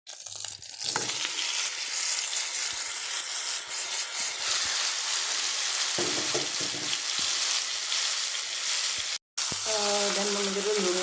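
Cumin seeds hitting hot oil set off a loud, dense sizzle that holds steady for several seconds, broken briefly by a short gap before the crackling frying resumes with faint bubbling.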